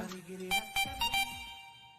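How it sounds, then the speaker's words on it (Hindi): A phone rings indoors with a few short, bright electronic ring tones in a quick rhythm, moderately faint, over a soft tonal background. "तिवारी जी का फोन"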